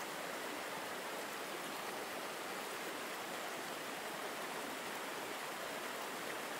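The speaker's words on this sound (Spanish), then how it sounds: "Los sonidos del agua que fluye y los suaves murmullos del jardín te acompañan" Steady, continuous water flowing through a garden, with a soft, even rush and trickle that holds unchanged throughout and no other sounds.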